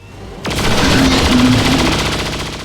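Chain shot gunfire in XCOM 2, a loud sudden burst of rapid automatic shots that starts sharply and rattles on as a dense, sustained roar before slowly easing off.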